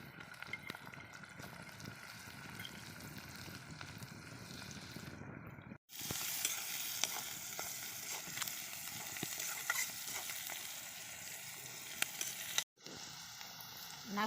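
Onions hit hot oil with ginger and chillies and are stirred in a pan, giving a close, steady sizzle with scraping stir sounds and brief pauses, no talk.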